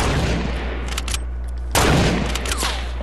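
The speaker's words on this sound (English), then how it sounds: "Bro, we're getting sniped everywhere." Sniper rifle gunfire in the video game Fortnite, a loud fusillade of sharp shots, with a heavy blast cracking out near the middle over a dense, rumbling battle background.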